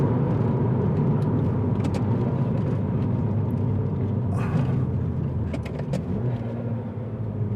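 A modified Mini F56 JCW pulls hard through the gears on a country road. Its engine gives a loud, continuous close rumble that eases slightly near the end, with no talking.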